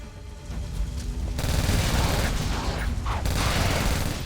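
Rapid gunfire in the PS2 action game Onimusha 3: Demon Siege, a dense fusillade of shots that starts partway in and keeps going over a low game soundtrack.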